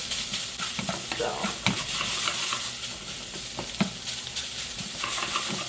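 Meat sizzling and frying in a pan during home meal prep, with a steady crackle broken by occasional utensil stirs and scrapes, close and moderately loud, with a brief spoken word.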